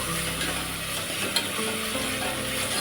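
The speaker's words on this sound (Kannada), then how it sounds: "ಟೊಮೆಟೊನ ಸ್ವಲ್ಪ ಚೆನ್ನಾಗಿ ಫ್ರೈ ಆಗಲಿ ಅದೇ ಈಗ ಟೊಮೆಟೊ ಫ್ರೈ ಆಗಿದೆ ಆಲ್ರೆಡಿ" Tomatoes fry in a pan for soya chunks pulao with a steady close sizzle and soft scraping of a spoon as they are stirred, no talking.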